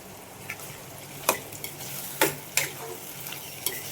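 Cooked dal poured into a hot pan in a Konkan home kitchen over a lowered flame, a soft steady sizzle broken by several distinct clinks and scrapes of a spoon against the pan.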